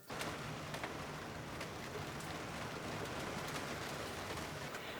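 Rain patters steadily on a sailboat lying at anchor under southerly wind, a soft continuous hiss dotted with sharper individual drop ticks, fairly quiet and even throughout.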